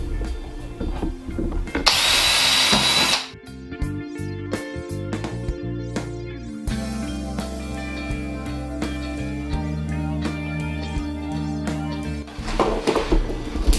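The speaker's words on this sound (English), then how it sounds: "pre-drill all of our holes using a 7/64 drill bit" A power drill with a 7/64 bit bores pilot holes in cypress hive box boards, whining in short close bursts between clunks and handling of the wood, with a loud high spin-up near the start.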